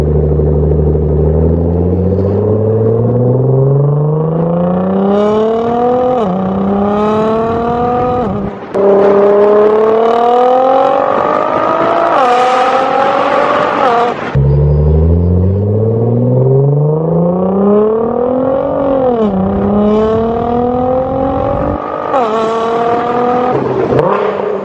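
A Nissan GTR R35 with an Fi exhaust revs hard under an underpass, loud echoing climbs through the gears with sharp drops between shifts, several long accelerating pulls close to the microphone.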